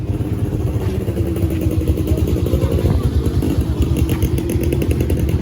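A Vespa scooter engine runs close by with a rough, rapid putter at a gathered motorcycle ride in Aceh. Voices chatter faintly underneath.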